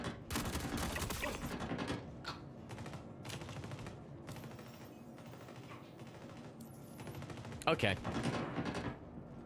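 Rapid bursts of gunfire in the video game Star Citizen, dense and sustained through most of the stretch with a louder cluster near the end, while a voice speaks briefly over it.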